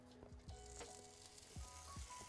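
Bacon strips sizzle on a griddle set up on a Big Green Egg, giving a quiet, crackling hiss with a few sharp pops and tonal squeaks over a couple of seconds.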